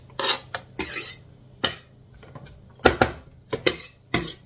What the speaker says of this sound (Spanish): Cebolla, lista, para adentro, a la cazuela.